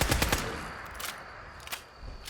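Rapid gunfire in Fallout 4, a burst of close shots at the start followed by a few sharp single cracks over a steady noisy background.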